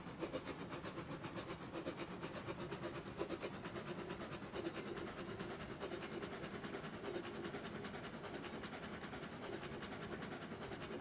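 A train rolling along the tracks in the railroad game Railroads Online, a dense steady rumble and hiss with faint rhythmic clatter, continuous and unbroken with no talking.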